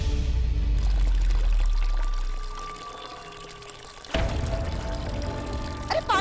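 A heavy stream of water pours and gushes loudly, easing off midway before a fresh splashing surge returns, close and continuous with a few faint background voices.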